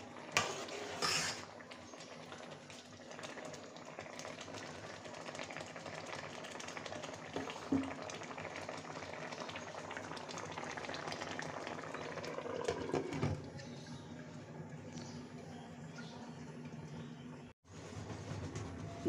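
Food cooking in a pot covered with a lid, a steady, fairly quiet bubbling and hissing simmer that runs on without a break until a short dip near the end.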